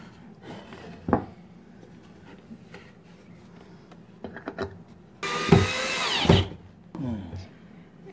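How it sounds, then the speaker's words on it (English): Power drill or screwdriver driving screws to assemble paint room panels, with several short whirring bursts and a louder, sustained high-pitched run near the end, close up, no talking. "what you want to do is you want to put the two inside screws in first and then the outside"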